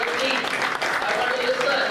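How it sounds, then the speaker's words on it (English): Brief burst of dense audience applause at a national moot court competition in India, loud and continuous with a faint murmur of voices mixed in. "Give yourself a round of applause, please."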